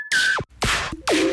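Metallic snare drum sample processed with a frequency shifter: three separate swept, zapping hits with pitch glides and a bright noisy body, each ringing briefly before a short gap.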